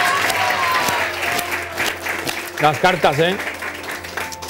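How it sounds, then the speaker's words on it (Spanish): A studio audience on a Spanish-language TV variety show claps as someone talks, the applause building toward the end of the short stretch under his speech. "Muchas gracias, un aplaudimiento,"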